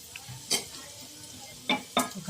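Tempering spices fry in ghee for a milk-based bottle gourd curry, a soft low sizzle broken by a few sharp spoon clinks and stirring scrapes against the pan.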